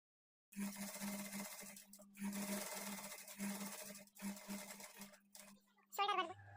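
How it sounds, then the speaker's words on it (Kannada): Electric sewing machine running in bursts as it double-stitches a blouse sleeve seam at a half-inch margin, a steady whirring hum that starts, pauses and restarts several times, close and fairly loud with no talking. "ಈಗ ಇದ್ರ ಮೇಲೇನೆ ಡಬಲ್ ಸ್ಟಿಚ್ ಹಾಕ್ಕೊಳ್ತಾ ಬರಬೇಕು"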